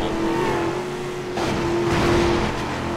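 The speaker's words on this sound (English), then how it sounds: "It's a better engine note than the Scion." Cadillac XLR engine revving in the video game Midnight Club 3, a car drone that rises and swells mid-clip, loud and close with no talking.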